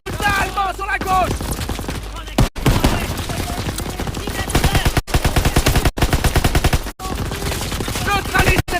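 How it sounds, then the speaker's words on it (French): Call of Duty WW2 machine gun firing in long rapid bursts with brief gaps, loud and close, mixed with battle noise and shouted soldier voices. "La mitrailleuse tire plus!"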